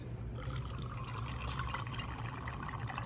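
Ginger lemonade being poured for a cocktail, a steady close splash and trickle of liquid filling a glass, continuous and fairly full throughout.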